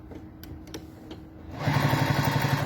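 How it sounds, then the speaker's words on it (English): A few light taps and handling sounds come first, then a domestic sewing machine starts up loudly halfway through and stitches a line along a fabric bag strap with a steady, fast mechanical whir. "So now I'm going to run another line of stitching."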